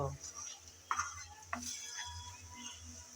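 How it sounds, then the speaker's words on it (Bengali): Winter vegetables such as cauliflower, carrot and long beans are stirred and sautéed with salt and garam masala in a pan for a lentil dish, giving a steady low sizzle with a few sharp spoon scrapes, close and alone. "সব একসাথে নেড়ে চেড়ে ভালোভাবে একটু কষিয়ে নেব"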